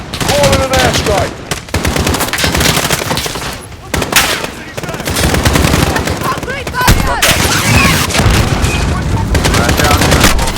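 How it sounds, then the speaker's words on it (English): Dense, loud in-game battle from Modern Warfare during an airstrike: continuous machine-gun bursts and rattling gunfire with heavy booms and explosions throughout, a brief lull near the middle before the barrage resumes. "Alex, call in an airstrike."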